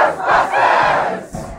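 A large podcast live-show audience shouting a chant together from the Ghostbusters theme, a loud unified roar of many voices in two swelling bursts before trailing off.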